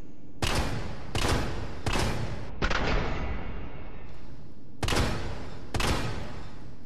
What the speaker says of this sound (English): let's test the shotgun with a semi-automatic barrel attached to it